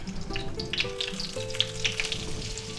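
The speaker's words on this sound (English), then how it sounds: "Now we're going to fry them until they're nicely golden brown and nice and crispy." Eggplant slices frying in oil for eggplant parmesan, giving a steady, close, busy sizzle with crackling pops throughout.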